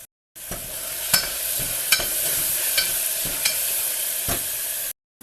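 Tomatoes sizzling in a frying pan for a Kokan village-style mutton chatan fry, a steady loud crackle punctuated by several sharp scraping stirs at irregular intervals.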